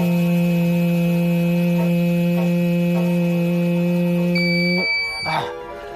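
A car's ignition interlock breathalyzer emits a steady, continuous electronic tone that shifts pitch near the end before cutting off abruptly.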